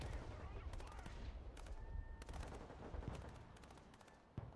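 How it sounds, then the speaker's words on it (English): Artillery and gunfire in the video game Broken Arrow, with repeated sharp blasts and crackling volleys over a dense rumbling battle bed, some impacts close and others distant, continuing throughout. "They're under heavy artillery fire."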